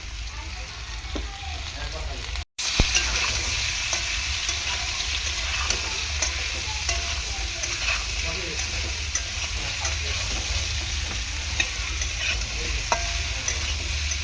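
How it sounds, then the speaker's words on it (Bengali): Ridge gourd and potato stir-frying in a pan with salt and turmeric, a loud continuous sizzle with frequent stirring clatter right up close, briefly cut off near the start, no one speaking. "নুন হলুদ দিয়ে আলুটা ভালো করে ভেজে নেওয়ার পর দিয়ে দেব আমি এই যে ঝিঙে কেটে রাখা ঝিঙেগুলো"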